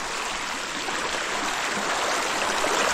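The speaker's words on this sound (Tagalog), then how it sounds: "Ito lakas naman po ng ulan" Heavy rain pours down steadily, a dense, loud, even hiss that rises slightly over three seconds, with no voices.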